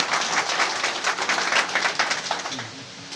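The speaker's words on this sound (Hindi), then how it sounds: "बस तालियां बजाओ" A small audience at a political party meeting claps briefly, a moderate, somewhat uneven patter of hands for about three seconds, with individual claps audible before it thins out.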